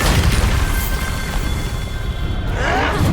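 The Bombarda spell goes off in Hogwarts Legacy as a loud, close blast with a sustained roaring rumble that fades and then swells again near the end.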